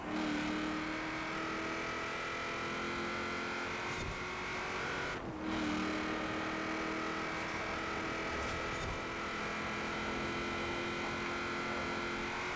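A tuned car from the Forza Horizon 4 racing game drives along a custom track, its engine droning steadily with shifting revs and a brief dip midway, other racers approaching.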